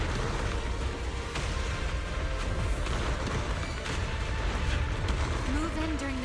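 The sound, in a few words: explosions in a video game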